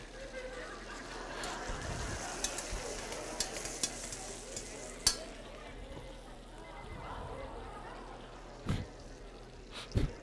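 Food roasting and sizzling in a pan during a live cooking demonstration, a steady frying hiss with occasional sharp crackles and spits, heard under ongoing talk.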